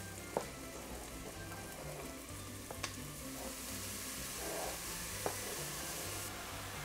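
Sliced mushrooms and softened onions sizzle faintly in a pan for risotto, a quiet, steady crackle broken by a few light taps and clicks of a utensil against the pan.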